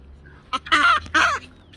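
Birds outdoors give two short, loud clucking calls close by, with a faint low hum behind them.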